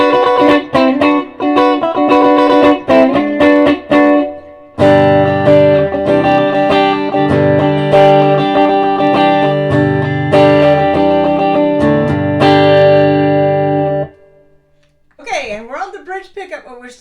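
Electric guitar, a PRS Santana SE, played straight into an amp with a touch of spring reverb, with bright picked notes, then sustained ringing chords for about ten seconds, ending with a brief wavering bend.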